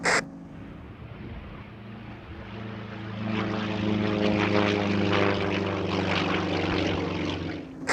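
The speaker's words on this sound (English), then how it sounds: "Acceleration rate is tremendous in the YAK-50." A Yak-50 aerobatic plane's radial propeller engine drones loudly as it accelerates on takeoff, the roar swelling midway and holding strong to the end with no voices.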